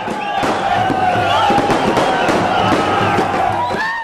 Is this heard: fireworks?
yes